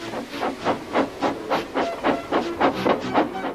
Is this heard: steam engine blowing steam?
yes